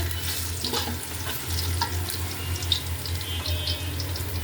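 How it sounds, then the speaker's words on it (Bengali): Chopped onion fries in a pan for pilaf, a soft continuous sizzle with occasional light clicks over a low steady hum, no voices. "পেঁয়াজটা একটু ভাজা ভাজা হোক।"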